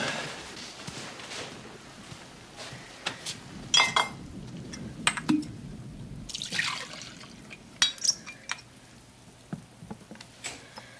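Whiskey is poured into a glass with no ice: scattered clinks of glass against glass and short liquid trickles and drips, quiet and close, with gaps between the sounds.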